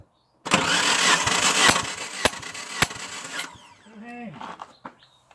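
A Suzuki Vitara engine cranks over during a compression test, a loud close churning whir lasting about three seconds with a few sharp knocks, then fading into quieter squeaks and tones.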